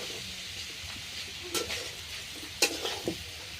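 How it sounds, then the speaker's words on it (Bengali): Young tender jackfruit pieces nearly done frying in a pan, with a soft continuous sizzle and a few sharp scrapes and clinks of a spatula stirring, close up and fairly quiet, with no voices. "ইঁচড়গুলি প্রায় ভাজা হয়ে এসছে।"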